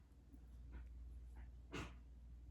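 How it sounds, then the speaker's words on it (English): A dog coughs outside beneath a window, faint and distant: a few short, raspy bursts spaced over a couple of seconds against a low steady hum. "There's a dog underneath my window outside, coughing."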